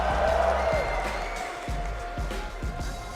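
An arena crowd at an esports tournament in Rotterdam cheers and claps in a broad, sustained roar, with rhythmic thumping beneath it and a voice over the noise at the start.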